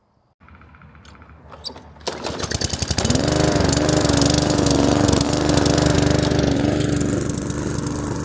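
A gas lawn mower starts with a few pulls and sputters, then roars into a loud, steady running drone that stays close and constant.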